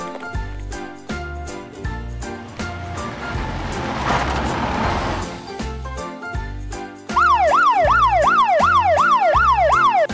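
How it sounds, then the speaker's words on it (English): Over a bouncy music beat, a police siren kicks in near the end, yelping loudly in quick rising-and-falling cycles. "Police car."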